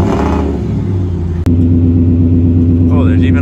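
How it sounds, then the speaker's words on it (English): A Hennessy Velociraptor supercharged V8 truck rumbles nearby with a deep, loud, steady idle that cuts briefly and then resumes, and a faint higher whine rises near the end. "Is that a Hennessy Velociraptor Supercharged V8, serial number 46, hand-built in Texas"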